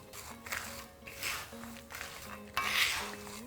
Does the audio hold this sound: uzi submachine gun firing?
no